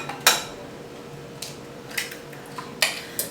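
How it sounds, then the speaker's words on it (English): Eggs cracked against the rim of a dish in a kitchen, sharp isolated taps spaced out over a few seconds, close and clear with no talking. "So I'm going to crack the eggs in here."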